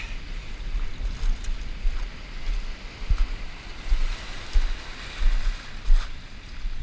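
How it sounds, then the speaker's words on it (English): Big ocean surf surges up a beach on a fall morning, loud rolling wash and crashing swells rising and falling in repeated surges, with wind noise over the water. "These waves are pretty gnarly and big, pushing that water up high."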